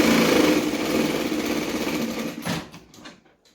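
A sewing machine stitches the side of a folded pocket shut on a lining, a loud, close, continuous mechanical whir running steadily for over two seconds before stopping, followed by a few faint handling clicks.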